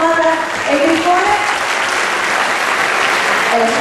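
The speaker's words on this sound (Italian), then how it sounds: "Facciamo un applauso a Marta e Grifone" Loud, steady applause from a school audience at a primary school performance, dense clapping filling the whole stretch with faint voices mixed in beneath.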